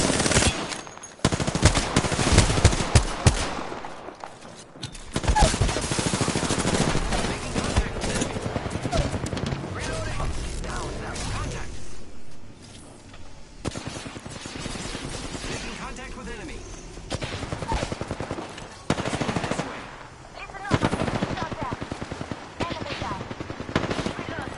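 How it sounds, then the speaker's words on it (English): Enemy gunfire rattles through a PS4 shooter game: loud, dense bursts of automatic fire and single shots keep coming close together for the whole stretch, with a voice heard at times over the shooting. "The enemies are shooting at me."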